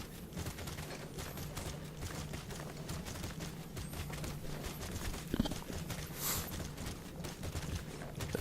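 Horse hooves galloping in an online fantasy game, a rapid, continuous clip-clop of hoofbeats at moderate level over a low background hum, with no one speaking.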